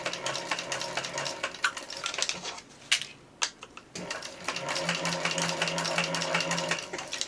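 A sewing machine stitches a backpack seam in rapid bursts, a close mechanical whirring chatter that stops briefly midway for a few clicks and handling noises before running steadily again.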